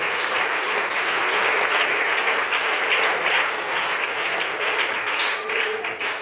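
A church congregation applauds steadily and enthusiastically during a sermon, a dense wash of clapping that holds at an even, loud level throughout.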